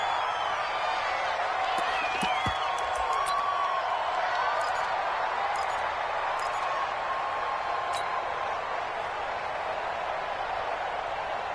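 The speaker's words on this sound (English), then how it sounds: "this is where the Arrowhead crowd can make it very tough" Crowd noise at Arrowhead Stadium in a football video game, a steady, dense roar of many voices with a few whistles cutting through, continuous at an even level throughout.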